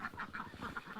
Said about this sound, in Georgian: იხვები.